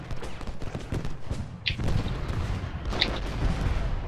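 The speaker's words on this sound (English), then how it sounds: "My guns are still firing, actually." Artillery cannons fire in the Gettysburg battle of the strategy game Ultimate General Gettysburg, a dense continuous rumble of distant booms and gunfire with a couple of sharper reports standing out.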